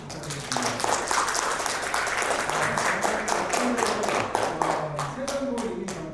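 After a lecture at a 2020 youth conference, the audience gives the professor a loud round of applause. Close, rhythmic claps from many people carry on steadily, with voices speaking underneath.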